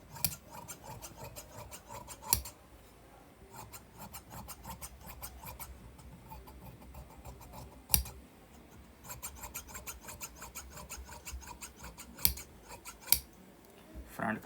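Scissors cutting fabric for palazzo pants, a steady crisp rasping of the blades through cloth with several louder snips, close and quiet, with no talk.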